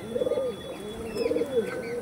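Madras pigeons coo in two clear, rolling phrases, close and fairly loud, each a throaty warble rising and falling, with no talk.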